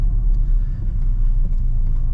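A Renault Megane 2 RS driving with a steady, loud low engine rumble, a car in motion heard from inside with no talking.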